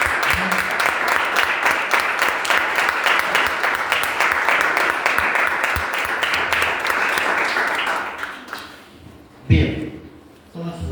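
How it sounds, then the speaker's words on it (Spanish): A church congregation applauds in a dense, loud burst of clapping that fades out near the end, followed by a few thumps and brief sounds. "Den un fuerte aplauso al creíble."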